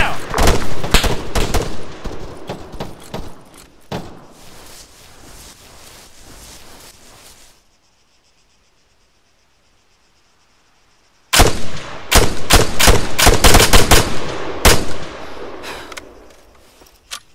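Gunfire and machine gun bursts in the military shooter game Arma 3, loud dense volleys and rattling automatic fire in two long stretches separated by several seconds of near silence.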